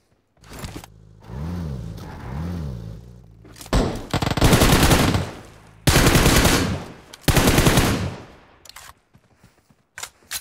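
Gunfire from a shooter video game crackles in repeated bursts of rapid automatic fire, loud and close, separated by short quieter gaps with faint background game sounds.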